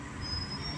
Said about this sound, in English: here's a metro train, it's getting ready to pull off.